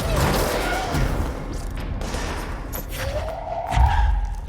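In the video game Control, a missile strikes the player amid combat, with loud thuds, crashing impacts and a rising whoosh layered over dense game noise, and a heavy low boom near the end.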